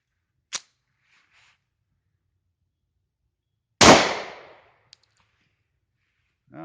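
A German P.08 Luger pistol fires one loud, sharp report outdoors that rings off for about half a second, with a fainter click just before and some handling noise after.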